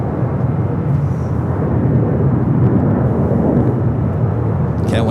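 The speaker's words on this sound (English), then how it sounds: "It's JetBlue flight heading to Boston, flight 288, the A321." JetBlue Airbus A321 jet at LAX departing for Boston, a loud continuous broadband engine roar holding steady throughout.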